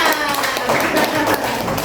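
Schoolchildren in an Indonesian classroom clap together after group presentations, a dense burst of close hand claps with voices chattering underneath throughout.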